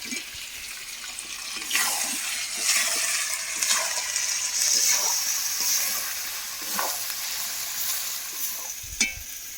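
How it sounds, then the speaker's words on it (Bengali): Mutton curry and potatoes being sautéed in a pan, with a steady close sizzle of frying and repeated scraping stirs of the spoon throughout. "আলুগুলো এবার এর সাথে দিয়ে দেবো দিয়ে একসাথে কষিয়ে নেবো ভালো করে"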